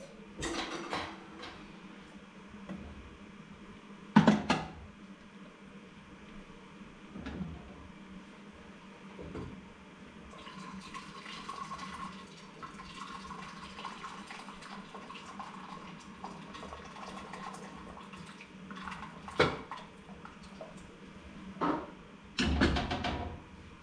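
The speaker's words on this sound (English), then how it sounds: "Let me reduce some water first." Excess water is poured off a pot of boiled potatoes before mashing, a quiet, uneven trickle and splash broken by a few sharp clanks of the pot and lid.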